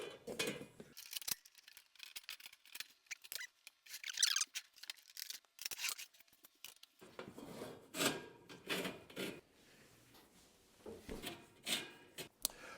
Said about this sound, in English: We already put the plastic feet in, so now we insert the poles